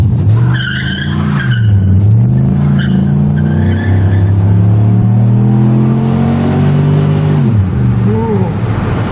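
A 2006 Chevy Impala SS with the LS4 engine, front-wheel drive, accelerates hard at full throttle, a loud close rising engine roar that climbs, dips and climbs again between gear changes, with tire noise.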